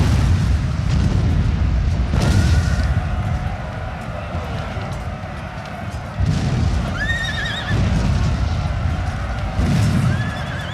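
Horses neigh and whinny amid cavalry fighting with British dragoons in a forest in Napoleon Total War, with artillery booms falling from above, several whinnies rising over a dense, continuous battle roar.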